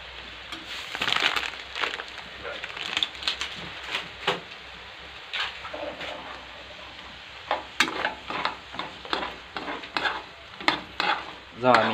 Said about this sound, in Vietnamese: Rồi mình cho đường vào, mình đảo đều đi.